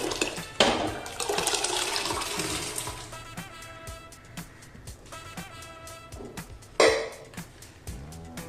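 Water poured into a cooking pan of usal curry with vatanas in a steady rushing stream, followed by clinks and a second brief splash near the end.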